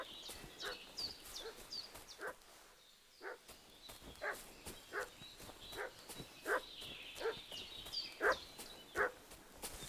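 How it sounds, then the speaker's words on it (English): A dog in the video game Kingdom Come: Deliverance 2 barks repeatedly in short, sharp bursts over a faint background ambience, the barks coming at an irregular but steady pace. "Why is the dog barking?"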